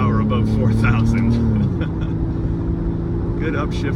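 A 1997 Porsche 993 911 Cabriolet engine revs up, then its pitch drops sharply as it upshifts into the next gear and keeps pulling steadily, with faint voices underneath.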